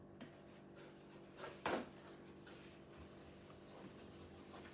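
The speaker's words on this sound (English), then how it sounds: "I'm just going to spray that." Cleaner is sprayed onto lined kitchen cabinet shelving in one short, close hiss, followed by faint rubbing in a quiet room.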